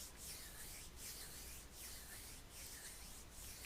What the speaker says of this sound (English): Rubbing our hands together